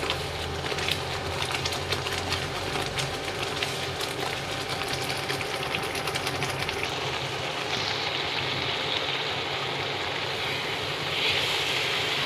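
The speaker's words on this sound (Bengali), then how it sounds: "বাটা মশলাটা ফুটছে" Ground spice paste bubbling and sputtering hard in a hot pan while being fried for a mashed bharta dish, a steady dense crackling sizzle that stays loud and continuous throughout.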